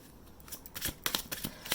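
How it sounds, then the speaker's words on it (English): Tarot cards are shuffled by hand, a quick series of crisp riffling and flicking bursts, close and fairly quiet, with no talking. "I'm just gonna live shuffle here on camera"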